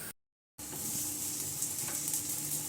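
Beetroot cutlets hit a hot pan and give a steady, close hiss of frying. The sizzle starts right after a brief gap of silence and carries on evenly.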